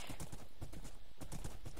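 Horse hooves clip-clop steadily in the Minecraft video game, a quick, regular rhythm of hoofbeats that is close and fairly loud throughout, with no talk over it.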